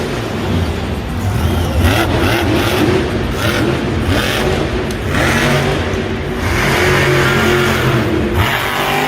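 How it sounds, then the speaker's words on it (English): Monster Mutt Dalmatian monster truck engine revving hard at a Monster Jam stadium show in San Antonio, a loud, steady, gritty roar that holds for the whole stretch with slight surges and clatter. "Up next we have Cynthia Gauthier, who's been coming out early a lot lately in the Monster Mutt Dalmatian"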